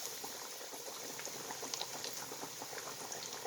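Two coated chicken pieces fry in hot olive oil, giving a steady, dense bubbling crackle that holds at an even level throughout with no talking.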